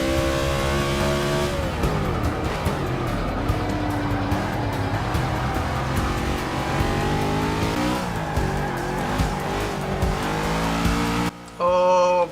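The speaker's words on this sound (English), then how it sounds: "Breaking into a drift there at the end of that long right-hander." Race car in the Forza 6 NASCAR expansion slides into a drift at the end of a long right-hand corner, a loud continuous engine roar with shifting pitch and tire squeal, ending with a brief sharper burst.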